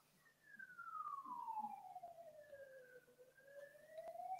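An ambulance siren passing outside, a faint, distant wailing tone that sweeps slowly down and then back up over several seconds against an otherwise quiet room.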